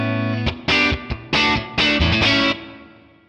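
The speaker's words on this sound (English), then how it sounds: "I added a spring reverb in another bus so I can get that amp with the reverb in a room sound" Distorted electric guitar chords through a 1967 Sound City One amp, several short strums with a springy reverb tail ringing out after each.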